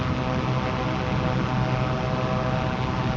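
A Chinook helicopter in a flight simulator game gives a steady, loud rotor and engine drone that holds even throughout, with no voices.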